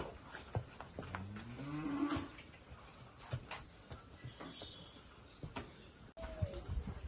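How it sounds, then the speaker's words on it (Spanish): A pregnant Girolando F1 cow close to calving, in calf to a Gyr dairy bull, lows once in a drawn-out moo on a farm, with faint birds and scattered small knocks around it. "Vaca Guirolando ya próxima a su parto, Guirolando F1, preñada de toro Guir Lechero."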